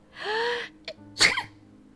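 A single sneeze with a rising voiced wind-up followed by a sharp burst, close and fairly loud, with no talk.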